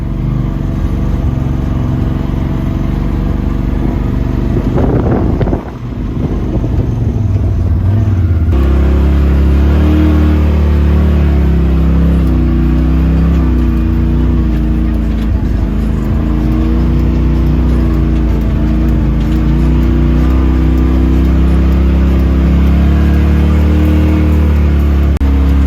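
Modified 2021 Polaris Pro XP side-by-side engine running loud and close, with a brief throttle surge and shift around the start, then a steady droning engine note as it drives off, no speech.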